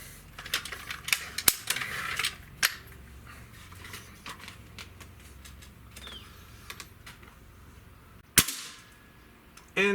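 An Umarex Synergis .177 gas-piston multi-shot air rifle fires sharp, close cracks, a few isolated shots spread several seconds apart amid quiet handling clicks.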